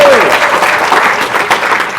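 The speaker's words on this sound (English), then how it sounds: "Round of applause," Audience applause at a film festival shorts screening: dense, loud clapping from a crowd, steady and close throughout.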